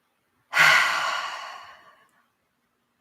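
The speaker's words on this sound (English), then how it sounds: "When you're ready, go ahead and take another cleansing breath." One slow cleansing breath is taken during a guided relaxation: a single soft, airy exhale that swells quickly, then fades out gradually over about a second and a half, close and alone in an otherwise quiet room.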